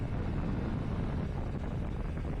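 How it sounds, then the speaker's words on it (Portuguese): Wind roars steadily and loudly over the top of a rider's helmet aboard a Triumph Tiger 900 Rally Pro motorcycle cruising at 115 km/h, a dense, unbroken rumble with no talk. "eu andando aqui a 115, ó, vento no topo do capacete"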